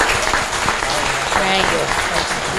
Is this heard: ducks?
no